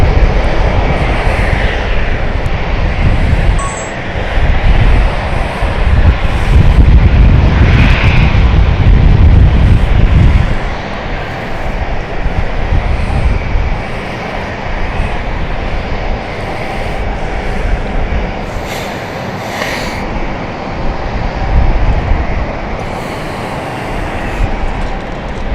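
An Airbus A220 passes at London City Airport, a loud broadband engine roar swelling to a peak and then easing into a lower, steady rumble with no one speaking.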